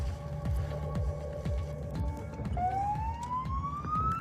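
A police car siren rises and wails over steady engine and road rumble, close and loud, with no talking.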